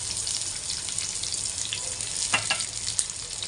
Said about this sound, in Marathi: मी खोबरं टाकलं फ्राय करायला तेलामध्ये